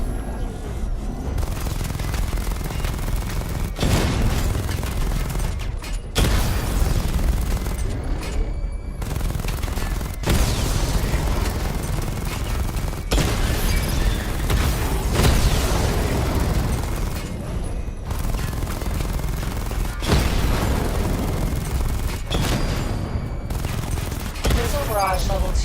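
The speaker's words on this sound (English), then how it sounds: "Charge the missile barrage to level 2 to destroy up to 4 targets at once." A missile barrage fires in Batman Arkham Knight in a dense, continuous volley of booms and blasts that rolls on loudly for about twenty-five seconds, with a few brief gaps.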